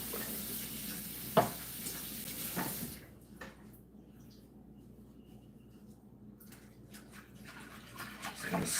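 A wire whisk stirs a mixture in a bowl, producing a quick, steady scraping rattle for the first few seconds, then fading to quieter, sparse clicks near the end.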